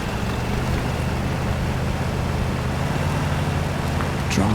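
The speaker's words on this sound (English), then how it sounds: "My boat just capsized." Boat in the MudRunner off-road game capsizing in water: a steady low engine and water rumble, close and continuous, with a sudden splashing disturbance at the very end.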